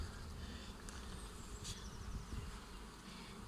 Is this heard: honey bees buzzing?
yes